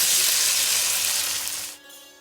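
Banana pieces fry in hot oil in a pan with fried onions, giving a bright, loud sizzle that hisses steadily and then drops away abruptly near the end.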